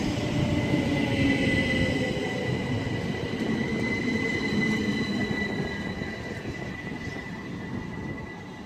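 Class 375 electric multiple unit pulling out of Faversham station, a steady loud rolling rumble with faint wheel squeal and high whine, fading slightly as it leaves.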